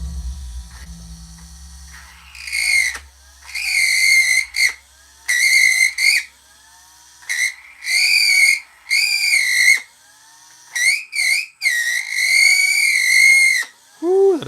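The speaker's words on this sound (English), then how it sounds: "The Dremel is a very handy tool." A Dremel rotary tool whines loudly and close by in repeated bursts, its piercing high-pitched squeal rising and falling as it spins up and cuts out. There is a low rumble at the start and no talking.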